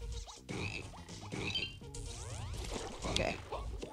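Frogs croak in BattleBlock Theater, a rapid run of loud, close, rhythmic croaks repeating over a few seconds with some sound effects mixed in.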